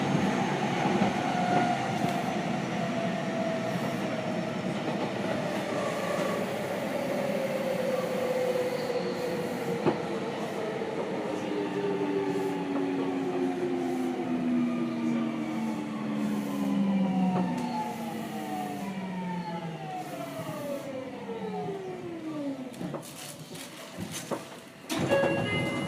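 Seibu 6000 series commuter train, set 6154F with a Hitachi GTO inverter, running between Hibarigaoka and Tamagawa, heard from on board: a steady rumble and wheel noise, with inverter whine sliding downward in pitch as it slows near the end.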